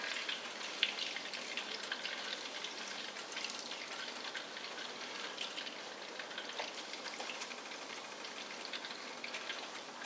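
Butter melting and sizzling in a pan while starting French onion soup, a steady soft crackle and hiss close up throughout, with no voices.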